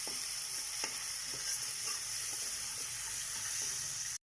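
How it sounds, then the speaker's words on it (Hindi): Onions with a little oil fry steadily in a pan, a close, even sizzle under a faint hiss, with a few soft stirring scrapes. No voices. "अच्छी तरह भूनना है 2-3 मिनट।"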